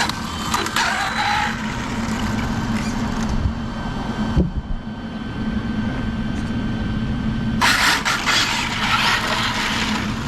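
An Arrma Infraction RC car drives with its body sitting very low to the ground, giving a continuous whirring motor and rough scraping rumble, loud and close, with a brief quieter lull midway before gritty rasping returns.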